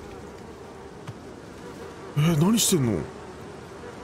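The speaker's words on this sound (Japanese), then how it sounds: "ハエも戦ってるし。" Buzzing flies in the horror video game Little Nightmares 2 swell into a loud, close drone for about a second before cutting off, with a person speaking briefly over the game sounds.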